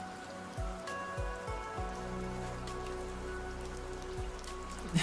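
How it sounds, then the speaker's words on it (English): Steady rain from an ASMR rain setup patters without a break at a moderate, even level, with a few soft low thumps mixed into the constant wash. "It's nice, and the constant rain noises is it's been very comforting, honestly."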